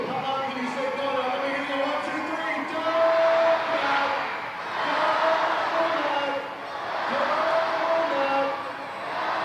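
Crowd noise at a day baseball game at the Vic in Indianapolis, a broad swelling murmur and cheering that rises and falls in waves, with a voice speaking over it throughout.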